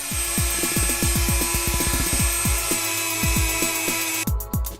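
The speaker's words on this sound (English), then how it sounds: "a little bit of coking can't compete with a Dremel" A Dremel rotary tool grinds carbon coking off BMW R100RS motorcycle engine parts, its steady high whine running throughout with repeated short pitch swoops as the bit bites and releases, loud and close.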